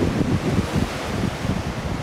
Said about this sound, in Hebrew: זה לא קרוב לים, זה לא מול הים, זה הים.